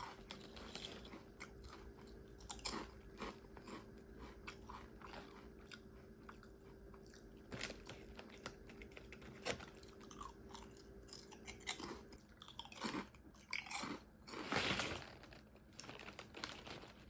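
Close, quiet crunching and chewing of a crunchy Ogamja butter garlic potato snack, with scattered bites and bag crinkles, a louder crunchy burst near the end, no talk.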